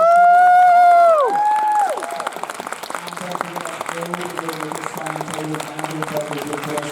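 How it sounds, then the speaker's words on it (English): A convention crowd applauds the RWBY voice actresses as their panel ends at MegaCon Manchester, the clapping rising after a loud musical stinger fades and continuing as a busy, sustained patter. "Please join me in a huge round of applause to our RWBY."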